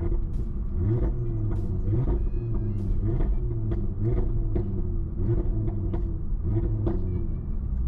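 Audi TT RS engine rumbling steadily up close, a deep, loud idle throb with repeated light blips of revving laid over it, running continuously with no talk.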